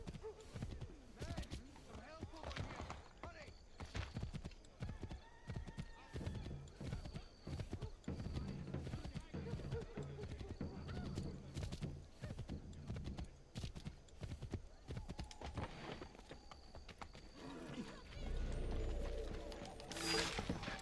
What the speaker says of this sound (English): summon my horse out of thin air